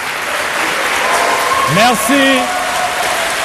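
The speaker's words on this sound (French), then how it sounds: "sous vos applaudissements" Audience applause follows a student's speech at a debate contest, a broad wash of clapping under a host's voice that swells briefly midway before settling back.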